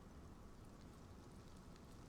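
Steady rain falls in the survival game Rust, a dense, even hiss of drops holding constant for the whole stretch with no voices over it.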